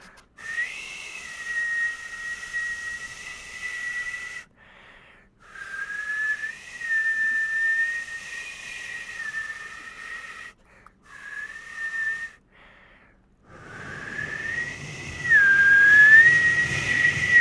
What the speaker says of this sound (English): No, that is a whistle, my friend.